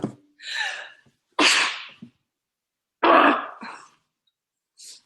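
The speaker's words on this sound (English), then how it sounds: "I think I need to sneeze again." A person sneezes several times in close, sharp bursts separated by silence, with a breathy intake before them and a faint final sound at the end.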